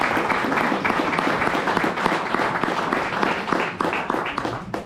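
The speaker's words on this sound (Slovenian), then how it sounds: "aplavz za gospod Ester." Hall audience at a hunters' male choir concert applauds a guest soloist: dense, steady clapping from many hands, moderately loud and continuous throughout.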